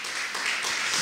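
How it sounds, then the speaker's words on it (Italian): A church congregation applauds its Lord during an Italian sermon, a steady dense wash of clapping filling the whole short moment at moderate volume. "Diamo un applauso al nostro Signore"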